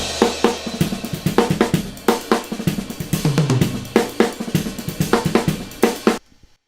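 Full drum kit heard through overhead microphones, a loud groove of sharp hits and crashing cymbals that continues steadily for several seconds, then cuts off abruptly to silence.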